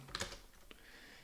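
Computer keyboard hotkeys are pressed and held, giving a brief cluster of soft, close clicks at the start and one more tap shortly after, then quiet.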